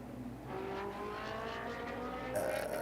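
GT race car pulling out of the pit lane at a GT Asia round in Korea in 2015, a steady engine drone that rises in pitch, with a sharp high whine coming in near the end.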